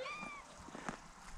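A cat outdoors in a yard gives one short rising meow at the start, faint and somewhat distant against low background noise.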